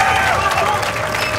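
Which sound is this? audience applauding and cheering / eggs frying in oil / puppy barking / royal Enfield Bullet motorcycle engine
audience applauding and cheering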